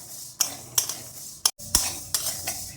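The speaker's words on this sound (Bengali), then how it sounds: "সবসময় নাড়তে হবে যাতে না পুড়ে যায়।" Golden mung dal dry-frying in a pan while a utensil stirs it, with sharp scraping strokes at a steady rhythm over a soft, continuous sizzle, close and fairly quiet.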